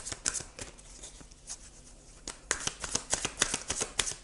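A tarot deck shuffled by hand up close, with rapid riffling card flicks in uneven bursts, quieter in the middle and busier toward the end, with no talking.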